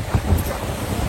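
Sea and light wind around a Vendée Globe solo racing sailboat, heard as a steady, close broadband wash of waves and breeze with no one talking.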